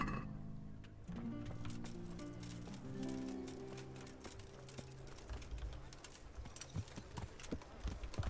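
Horse hooves clip-clop at a steady walking rhythm while riding in Kingdom Come: Deliverance, close and fairly quiet, the beats growing sharper and more irregular toward the end, with no talking.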